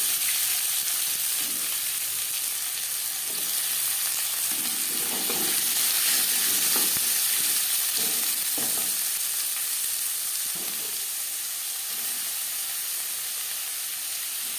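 Chopped onion frying in fresh oil in a wok previously used to fry fish: a loud, steady, hissing sizzle with occasional stirring scrapes, close and continuous, with no talking.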